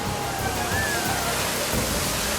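A hot-water geyser in Iceland's geyser valley erupts in a dense, continuous roar of rushing and splashing water, loud and steady throughout.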